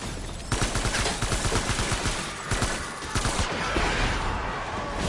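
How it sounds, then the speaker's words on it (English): Short rifle in Death Stranding fires in rapid, steady bursts of sharp cracks, loud and close, running nearly continuously with brief pauses between strings of shots. "Short rifle will be better for this."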